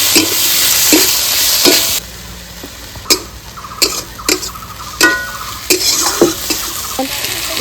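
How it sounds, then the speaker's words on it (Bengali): Onion, ginger-garlic paste and chopped tomato fry in oil for a prawn curry, a soft sizzle broken by sharp clacks of a spatula against the pan in an uneven rhythm, close by and without talk. "পেঁয়াজগুলো একদম লাল লাল করে ভাজবো।"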